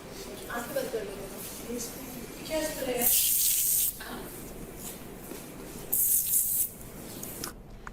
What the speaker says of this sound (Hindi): तो अब आप वहां टेबल पे रखे स्प्रे को इन दोनों के फेस पे स्प्रे करें।